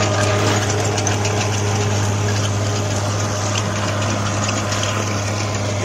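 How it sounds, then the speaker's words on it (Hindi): A heavy trencher machine's powerful engine runs steadily while digging a trench about 7.5 to 8 feet deep, a loud, continuous droning hum with constant low rumble and no pauses. "ये देखिए भाई कितना पावरफुल इंजन है, कैसी आवाज़ दे रही है तेरा इंजन।"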